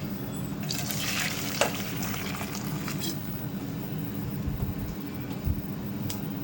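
Water from cooked sago pearls and potato draining through a strainer into a sink, a steady close splashing pour that runs throughout with small drips and knocks.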